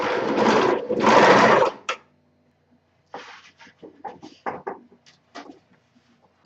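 A sewing machine stitches a garment seam in two short, loud whirring bursts, followed by lighter clicks and handling noises as the fabric is adjusted, with no talking.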